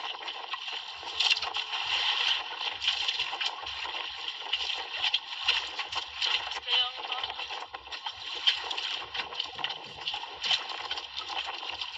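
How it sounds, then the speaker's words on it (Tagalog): Choppy sea water splashes and slaps around a small fishing boat on rough waves with wind, faint and irregular, under occasional talk. "Lakas ng alon ah."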